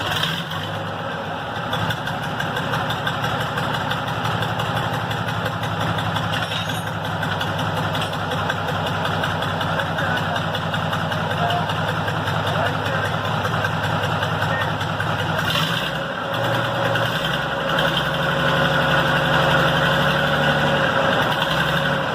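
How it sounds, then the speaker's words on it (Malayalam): A restored truck engine idles steadily after a cold start, a continuous, fairly loud low rumble that shifts slightly in tone partway through and runs on without pause. "ആ വണ്ടിയുടെ എഞ്ചിൻ നമ്മൾ ഒരു 3 കൊല്ലം മുമ്പ് പണിതിട്ട് സ്റ്റാർട്ട് ചെയ്ത വീഡിയോ ആണ് നിങ്ങൾ ഇപ്പോൾ കാണാൻ പോകുന്നത്"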